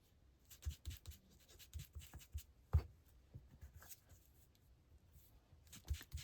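Ink being applied to the edges of a paper piece, quiet scattered dabbing and scratching strokes in an irregular rhythm, close and faint.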